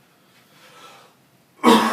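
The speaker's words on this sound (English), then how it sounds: "Man, I wish I could shake this cough." A single sharp, loud cough comes suddenly after a quiet stretch with faint breathing, close to the microphone.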